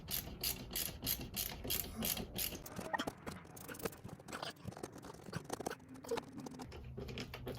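Quiet rapid clicking of a ratchet being worked back and forth while tightening an RV air conditioner silencer, in short rhythmic bursts with small pauses.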